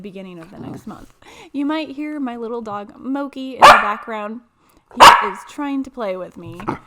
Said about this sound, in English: You might hear my little dog